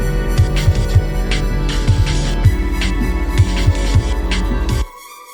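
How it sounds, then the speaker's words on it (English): A plucky, percussive saw-wave synth, like an 80s polysynth, plays a bouncing rhythmic pattern with a reverb tail, then cuts off abruptly near the end. "This thing is more of a percussive, plucky saw than the washy white noise thing."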